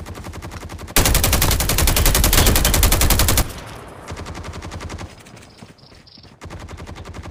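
Rapid automatic gunfire in the mobile shooter Call of Duty Mobile, a loud dense burst of shots for a few seconds, then quieter scattered shots and game ambience.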